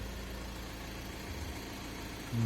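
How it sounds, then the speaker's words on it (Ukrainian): A 2015 Ford Transit passenger van engine idles with a steady low rumble and faint vibration, with no voices, a slight swell near the end. "Так, машина зараз заведена, працює."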